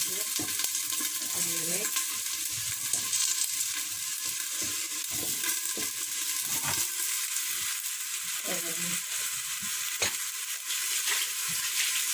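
Onions frying in a pan for a Turkish barbunya pilaki, with a steady loud sizzle and intermittent scrapes and clinks as they are stirred.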